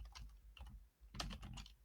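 Typing on a computer keyboard, quick soft clusters of key taps close up and quiet, in short bursts with brief pauses.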